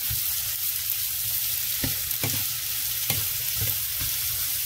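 Apple slices tossed in butter and brown sugar in a pan, a constant close sizzle broken by several distinct scraping knocks of the utensil against the pan at irregular intervals.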